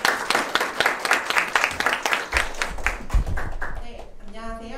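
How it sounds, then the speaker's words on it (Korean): Audience applause and clapping greet a pet-content startup presenter at a pet startup open innovation demo day, a dense crowd burst that fades out toward the end under a voice. "박수로 환영해주세요"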